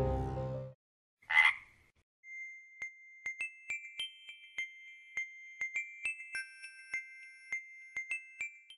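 Frogs croak in a quiet night setting, a steady run of short, rhythmic calls repeating at close range after a brief rustle and a sharp tinkling sound at the start.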